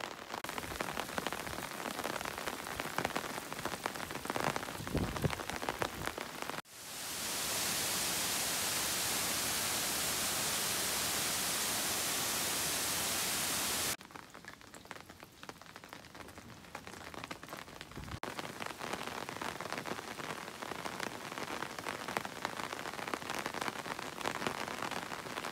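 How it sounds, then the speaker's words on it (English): Heavy rain drums on a tiny house as a loud, steady broadband wash, with one stretch turning into an even denser roar before easing back to the earlier downpour. "The rain is so strong,"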